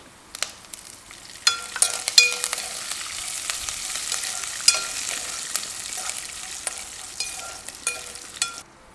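Peanuts, green chilies and curry leaves fry in hot oil for a tempering, crackling and sizzling steadily while sharp pops and stirring knocks cut through every second or so.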